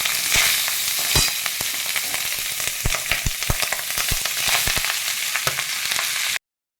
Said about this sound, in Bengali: এবার আমি ভাতটা দিয়ে দিচ্ছি